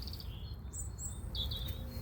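Small birds chirping in short high tweets, several overlapping calls over a low rumbling background, moderately distant.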